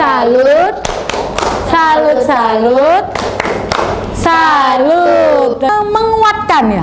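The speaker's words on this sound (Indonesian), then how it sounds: "Sekarang tepuknya tepuk salut." A classroom group performs the rhythmic 'tepuk salut' clapping routine, with sharp hand claps in a patterned beat mixed through loud, chanting children's and adults' voices that run almost continuously.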